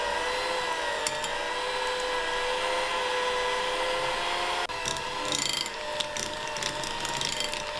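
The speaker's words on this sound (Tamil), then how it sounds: "இப்போ இதை வந்து லோ ஸ்பீடில் வச்சு நல்லா பீட் பண்ணிக்கோங்க" Electric hand mixer beating butter on low speed for a no-oven red velvet cake, a steady whirring mechanical drone with a rattling, gear-like texture that runs throughout, slightly changing tone partway through.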